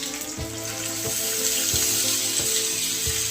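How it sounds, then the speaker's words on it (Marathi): Green chillies frying in a pan, a steady close sizzle with soft regular clicks or stirring taps, no voices. "हिरव्या मिरच्या थोड्याशा फ्राय करायच्या"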